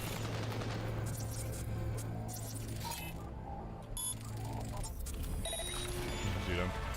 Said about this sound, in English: Somebody opening fire down there?